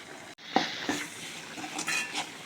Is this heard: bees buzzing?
no